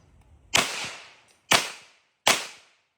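Three sharp gunshots from a B&T GHM9 firing subsonic 115-grain ammunition outdoors, each a loud close crack with a short fading tail, evenly spaced about a second apart.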